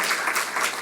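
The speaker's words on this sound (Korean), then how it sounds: "우리 하나님께 감사 박수 한번 해요." Church congregation at a Wednesday worship service breaking into thankful applause, a dense, sustained wash of many hands clapping together at even loudness through the whole short moment.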